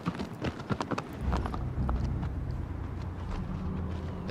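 Hooves of Aggro, the horse in the video game Shadow of the Colossus, clop in a brisk galloping rhythm that starts distinct and loud, then blurs into a rumbling stride under low game ambience.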